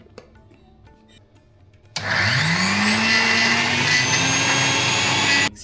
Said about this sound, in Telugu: మిక్సీ పట్టేద్దాం